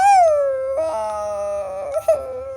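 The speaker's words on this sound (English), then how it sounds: "There was a whimper from the old soiled dog bed in the corner." A dog whimpering and howling from a dog bed, heard as a sustained, wavering high-pitched whine that rises and falls, close and fairly loud, with no talking.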